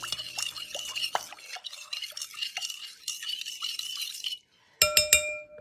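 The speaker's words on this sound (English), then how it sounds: "I'm going to stir it up just a little bit right here" Salt being stirred into vinegar in a glass for a penny-cleaning experiment: rapid close clinks and scrapes of a spoon against glass, a brief pause, then a few bright ringing taps.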